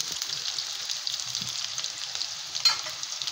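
String beans (sitaw) for adobong sitaw with tofu fry in a pan, giving a bright, continuous sizzle with light stirring and one sharper scrape near the end.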